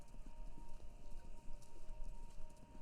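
Galloping horses heard over a radio station in the video game Kentucky Route Zero: a steady, rapid clip-clop of hooves over a low, hissy broadcast hum, fairly faint and continuous, with no voices.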